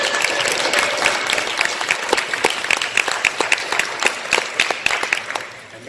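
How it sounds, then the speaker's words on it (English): An audience at a Geeks Are New Cool 2018 panel event applauds the panelists, a loud burst of many hands clapping with crisp individual claps, fading slightly toward the end. "I would like you to give a huge round of applause to our panelists"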